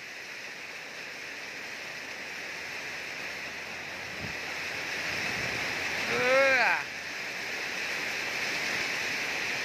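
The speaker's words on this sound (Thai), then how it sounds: "พี่น้องปีนี้ฝนดีฝนดี นะครับ" Steady rainfall in a rural Thai setting near fish ponds, a continuous hiss throughout, while a voice briefly makes a sound over it and the rain noise swells slightly toward the end.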